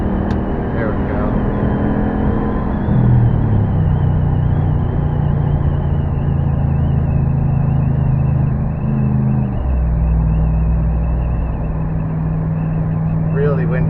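A 2014 Ram 1500 pickup with the 5.7L HEMI V8 and a tubular muffler exhaust accelerates from around 60 mph, giving a steady droning exhaust rumble with a shift in pitch partway through, heard under someone talking.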